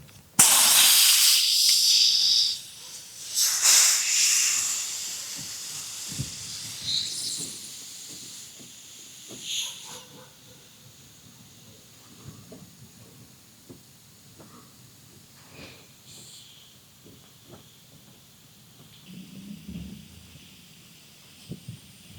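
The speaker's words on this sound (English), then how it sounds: "So I'm holding the air compressor in here just to make sure it's secure enough so that the air is forcing through the way I want it to." Air compressor blowing air through a garden drip irrigation line while winterizing, a loud hissing burst at the start that fades into faint gurgling and sputtering.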